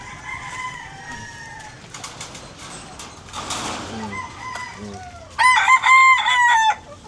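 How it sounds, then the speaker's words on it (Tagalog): Chickens in a backyard in the Philippines cluck intermittently at moderate distance, then a loud, close rooster crow rings out near the end, with a child's and an adult's voices faintly in the background. "Chicken yan."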